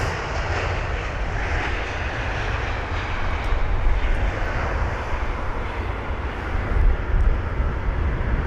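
An Airbus A330-900 sits after pushback at London Heathrow, its engines giving a steady low rumble with a broad hiss that stays fairly constant.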